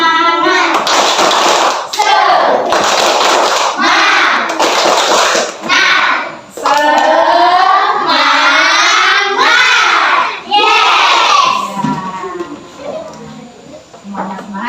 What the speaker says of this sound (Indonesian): Yuk semuanya kita tepuk semangat yuk.